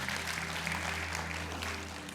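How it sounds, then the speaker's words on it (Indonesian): Congregation applause fills a church service, a steady dense wash of clapping with a low hum underneath, holding even for about two seconds. "Berikan tepuk tangan bagi nama Tuhan."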